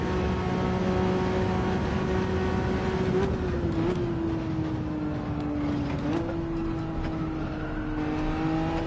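A Toyota Supra engine in a racing game, a steady, moderately loud drone that climbs and drops in pitch with gear changes as the car accelerates.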